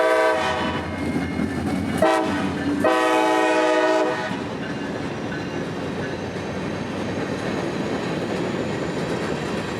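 A northbound freight train at night in central Florida, led by SD40-3 locomotive 4322, sounds a loud, sustained multi-tone horn in two blasts, then rumbles past with the steady roar and clatter of railcars.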